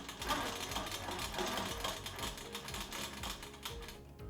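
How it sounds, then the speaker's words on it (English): A QMP 16 sewing machine stitches quilt binding along a diagonal seam, a fast, continuous mechanical whir and clatter at low volume. "now I'm going to sew back up the diagonal"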